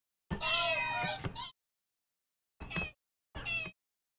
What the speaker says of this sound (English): it changes the keys to cat noises